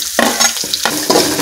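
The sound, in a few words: dried red chillies, curry leaves, green chillies and onion frying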